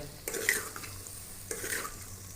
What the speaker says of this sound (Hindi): इनको हम लोग अच्छी तरह मसाले के अंदर मिक्स कर लेंगे